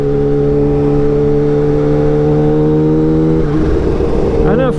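A Kawasaki Ninja H2 motorcycle engine holds a loud, steady idle hum close by, then revs upward briefly near the end.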